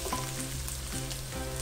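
Bacon browning in a pan for spaghetti carbonara gives a steady, close sizzle and crackle that continues without a break, with a low hum underneath and no talking.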